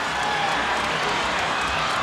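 Basketball crowd on its feet cheering inside the arena at Canseco in the final seconds of a game, a dense, steady roar of voices and applause throughout, no clear breaks.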